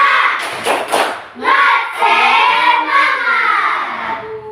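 A group in a classroom lesson does rhythmic spirit clapping (tepuk semangat): a few sharp, close claps, then voices chant loudly together in unison.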